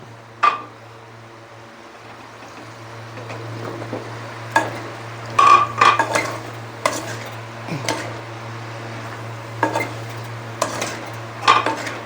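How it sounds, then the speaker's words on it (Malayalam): Okra and tuber curry with tamarind sautéing in a pan: a spoon scrapes and clinks against the metal in irregular bursts over a low, steady background hum and faint frying, with no talking. "എല്ലാം കൂടെ നമുക്ക് ചേർത്തൊന്ന് നന്നായി വഴറ്റാം"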